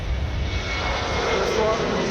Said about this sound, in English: Here we go. 737-800. Rotate.